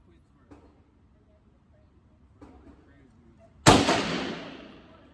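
A single loud gunshot at a shooting range booms out near the end with a long decaying echo, after two faint thuds and quiet moments.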